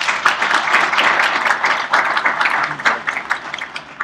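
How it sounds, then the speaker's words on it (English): Audience at a professional accountancy conference applauding a sponsor, a dense steady clapping from a sizable crowd that holds for several seconds without pause. "Round of applause for them."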